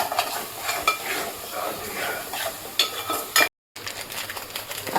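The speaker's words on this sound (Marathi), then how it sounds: "हळद मसाला, गरम मसाला टाकून मस्त मिक्स करून घ्यायची." Turmeric and garam masala being stirred into chole frying in a pan: busy scraping and stirring over a continuous sizzle, close and fairly loud, with a brief dropout near the end.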